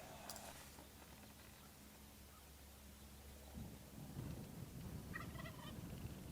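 A wild turkey gobbles in open country in Colorado, a rapid rattling burst near the start, followed by low rumbling and rustling with a faint second gobble toward the end.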